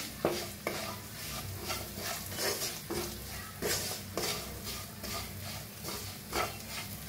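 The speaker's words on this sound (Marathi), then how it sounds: "मसाला छान भाजायला लागला, एका साईडला करायचा असा." Spice masala with coriander powder and salt roasts in a pan for an aloo bhindi dish, with repeated close stirring scrapes over a soft, steady sizzle.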